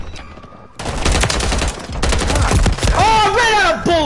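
Rapid video game gunfire, loud and dense, bursts through the middle of the clip after a quiet start; near its end the shooting gives way to tonal game effects.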